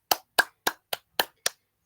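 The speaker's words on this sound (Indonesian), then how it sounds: "Kita kasih tepuk tangan ke kelompok 1." Six crisp, evenly spaced claps in a high school classroom honoring a presenting group, sharp and close with short decays and silence between, a unified rhythmic pattern rather than scattered applause.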